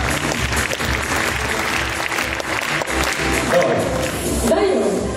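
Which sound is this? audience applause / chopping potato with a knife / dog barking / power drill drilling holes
audience applause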